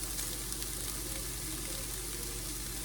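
Ground turkey stir fry for lettuce wraps, sauce added, sizzling loudly and steadily in a hot pan as it is mixed, a dense continuous hiss with faint scraping and no talk.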